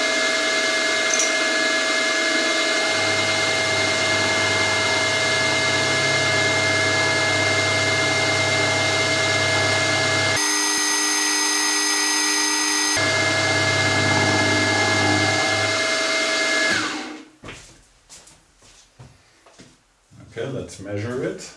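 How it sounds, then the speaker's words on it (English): Metal milling machine with a power feed cutting a workpiece held in a vise with a small end mill, a steady loud whine with tonal hum running about seventeen seconds before spinning down to quieter clunks and handling noise. "I'm doing it in 4 steps with a smaller end mill."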